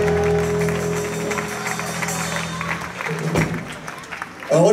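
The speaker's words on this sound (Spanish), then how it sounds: "Un aplauso para ustedes." Applause from an outdoor crowd at a musical presentation in a fairground garden, a brief mixed burst of clapping blended with lingering music and crowd noise, fairly close and full.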